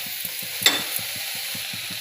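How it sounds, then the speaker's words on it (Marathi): Kurdu wild greens stirred in a spiced Marathi tempering with green chillies, giving a steady close sizzle with a regular rhythm of scraping spatula strokes and one sharper clatter, no voices. "फोडणीमध्ये भाजी व्यवस्थित परतून घ्यायची आहे."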